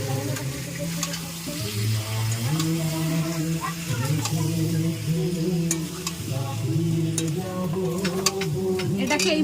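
Spices with chili powder fry in oil in a home kitchen, a continuous soft sizzle broken by repeated light clicks and scrapes of stirring, with a steady tonal hum underneath.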